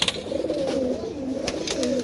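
A male pigeon coos in a courtship display, close by, with low rolling, repeated coos that swell and fall without pause over about two seconds.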